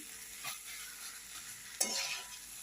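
Chickpea ghugni with cauliflower, potato and radish is sautéed with spices in a pan, a soft sizzle under two scraping strokes of a spoon, faint and close.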